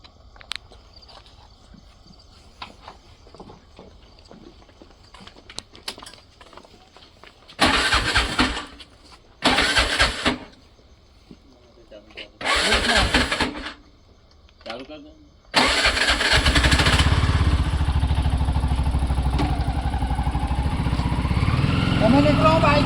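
A motorcycle engine is cranked in three loud bursts, then catches and keeps running steadily, following quieter stretches where people talk nearby.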